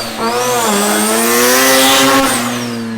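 A rotary-engined Datsun revving hard for a wheelie attempt, its high, rising engine whine climbing in pitch as it accelerates and then easing off, loud and close with no talking.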